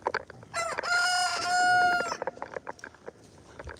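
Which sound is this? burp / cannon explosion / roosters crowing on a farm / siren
roosters crowing on a farm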